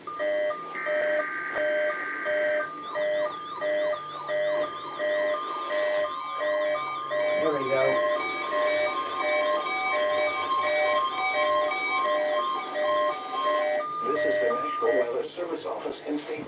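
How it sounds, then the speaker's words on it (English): NOAA weather radio test alert tones from the State College, Pennsylvania office: steady electronic tones and warbling beeps, loud and close, interleaved with bursts of buzzing data-like encoding tones. "The tones you just heard were a test of the specific area message encoding and tone alert systems."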